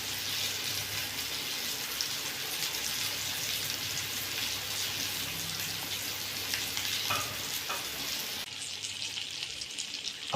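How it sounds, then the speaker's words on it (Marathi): Masala and rava coated fish frying in hot oil for a Malvani-style dish, giving a loud, steady crackling sizzle throughout with faint stirring, alone without talk. "आता चांगले फ्राय होऊ दे. तेलाचा तडतडण्याचा आवाज येतोय."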